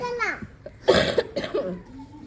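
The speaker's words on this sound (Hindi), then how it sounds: "आपको बड़ी खांसी हो गई है" A voice with a short cough burst amid brief vocal sounds, close to the microphone, in a village home.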